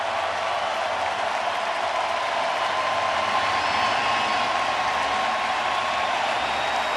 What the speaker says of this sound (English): Framber Valdez going to get a great show of appreciation from this sellout crowd